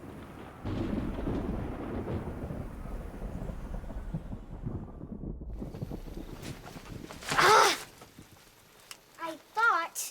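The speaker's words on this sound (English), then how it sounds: "I thought it wasn't gonna rain here." Thunder rumbles low and sustained during a rainstorm on an African safari, a deep roll filling the first seconds, followed by short bursts of voices toward the end.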